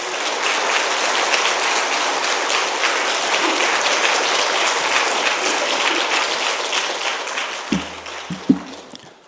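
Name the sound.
audience applause welcoming the pastor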